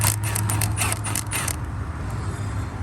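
A ratchet turns out an 8mm bolt on the engine of a 2014-2020 GM truck, with quick rapid clicks for about a second and a half before it goes quiet, close up, no talking.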